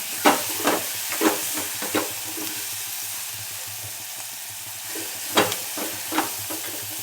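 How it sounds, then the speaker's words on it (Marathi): Onion tomato chutney sautéing in a pan, a steady soft sizzle broken by several sharp scrapes and stirs of a spoon against the pan, close and with no talking. "छान एकदा परतून घ्यायचं आपल्याला."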